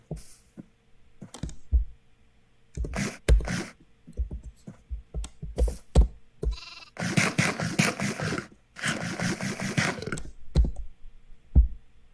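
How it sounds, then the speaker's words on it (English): Sheep in the Minecraft video game bleat in several loud, close bursts, interspersed with clicks and short bits of other game sounds. "I swear there was another sheep. Oh, one just spawned in."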